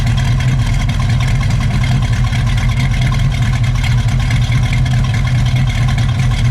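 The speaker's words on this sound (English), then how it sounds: "give it a rev, please. Just let it idle for a second." A 1967 Chevrolet Camaro RS SS 350 V8 runs loud and close at a steady, rumbling idle. The deep, even engine drone holds without clear revving.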